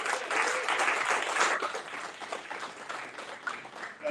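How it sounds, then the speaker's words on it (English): An audience applauding at a business talk on sales and marketing, dense clapping that is strongest at the start, softens midway, then picks up again in brief bursts toward the end. "Can you guys give a big round of applause for us?"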